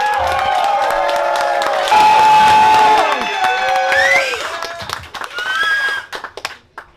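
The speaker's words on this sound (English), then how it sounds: "Disappointed at how loud you guys clap" A comedy show audience claps and cheers loudly after a set, with whoops and shouts rising over the applause before it thins out into scattered claps.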